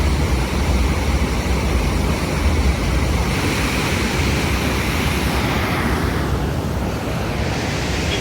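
Surplus water rushes through the gates of Mettur dam, a loud, continuous broadband roar that stays steady and unbroken throughout, with no talk.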